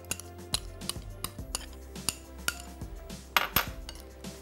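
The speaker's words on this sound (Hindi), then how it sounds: "इसको थोड़ा सा मिक्स करेंगे" A utensil mixes ingredients and an egg in a bowl, striking the sides with a steady run of sharp metallic clinks about every half second, close and fairly quiet.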